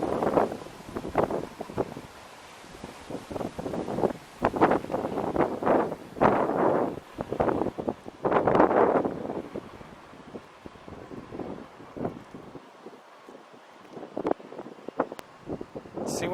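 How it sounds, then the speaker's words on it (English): Gusty wind rushes across the microphone during a bike ride, coming in loud irregular bursts that rise and fall, with quieter gaps toward the end and no talk. "Oh man, it's windy."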